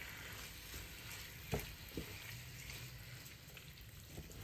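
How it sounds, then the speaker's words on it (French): Salmon cooking gently in a pan for creamy salmon and spinach pasta, with a steady soft sizzle throughout and a couple of brief clinks from a utensil, no voices. "On va laisser cuire le saumon tranquillement"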